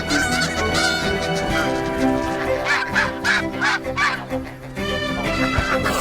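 Geese defending their eggs honk loudly and almost without pause, several nasal calls overlapping close by.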